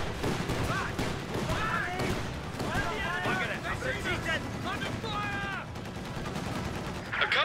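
Gunfire from a Company of Heroes 2 battle on the La Gleize map, a dense stream of rifle and machine-gun shots mixed with explosions, running throughout beneath overlapping battlefield voices and unit chatter.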